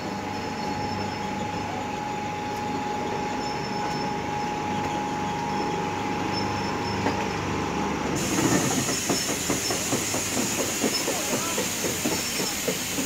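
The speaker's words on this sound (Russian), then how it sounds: "Все шесть вагонов пролетели мимо" An EPL9T electric train of six cars runs past Boyarka station, first a steady hissing hum, then a loud, close rhythmic clatter of wheels over rail joints as the carriages sweep by.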